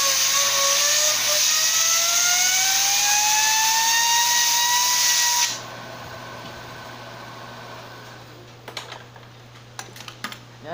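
A turbo engine's turbine wheel being metal-polished with a power tool gives a loud, steady high-pitched whine that climbs in pitch for about five seconds, then cuts off, leaving a quiet room with a few sharp clicks and knocks.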